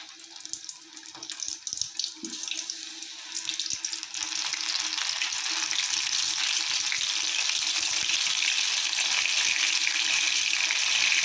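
Batter-coated shrimp frying in hot oil over a low flame: a steady, loud sizzling hiss that grows fuller and more constant after a few seconds.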